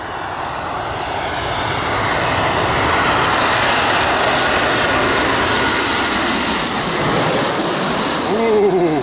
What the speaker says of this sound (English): Boeing 747, my daughter landing.